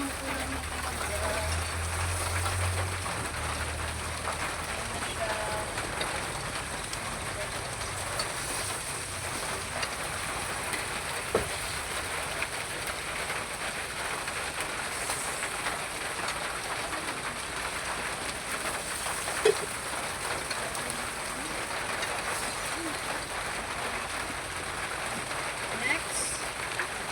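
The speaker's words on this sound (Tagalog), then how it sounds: "Kasi umuulan na talaga." Heavy rain pours steadily in the mountains, a dense continuous hiss of drops on surfaces that stays loud and even throughout, with no talk over it.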